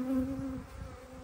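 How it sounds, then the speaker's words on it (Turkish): Honeybees swarm around beehives in a steady close buzzing drone with a sustained hum and no break, no voices present. "Şu anda kovanların etrafında dönüp dolaşıyorlar."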